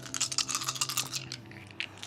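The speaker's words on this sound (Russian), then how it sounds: "Он бросает 5 кубиков." Five dice clatter across a table in the Dice Throne Adventures board game, a quick burst of sharp clicks and rattles that settles after a second, with a last faint tap.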